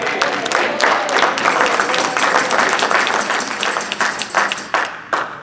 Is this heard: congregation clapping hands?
yes